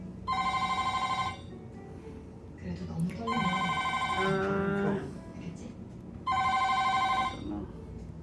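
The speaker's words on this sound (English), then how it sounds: "The phone is ringing." A hotel room telephone rings in three long electronic trill bursts with pauses between, fairly loud and close, while people talk quietly in the room during the gaps.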